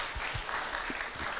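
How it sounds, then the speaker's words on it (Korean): Members of a church congregation clap for newcomers attending for the first time, a brief, even patter of many hands heard nearby with no voices over it. "박수."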